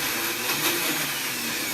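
A powerful Vitamix or Blendtec blender whirring steadily at high speed, a dense, continuous roar without pauses, heard alone.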